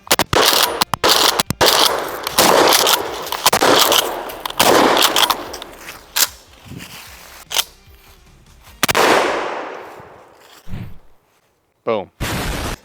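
A Maverick 88 pump shotgun loaded with Remington shells fires several loud, close blasts, each followed by a fading echo, with pauses and a few quieter mechanical clacks between shots.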